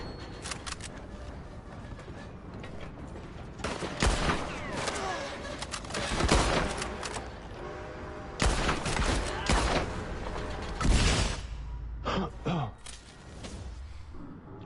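Explosive-bullet gunfire in the Red Dead Online video game, several loud, sharp bursts and blasts spread across the stretch with quieter gaps between, and some talk in the background.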